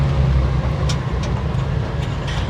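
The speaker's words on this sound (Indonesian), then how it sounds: "Wah, ada engine brake-nya." Steady, loud engine drone of a Piaggio Ape three-wheeler coasting downhill under engine braking, a continuous close rumble with a few faint higher clicks over it and no talking.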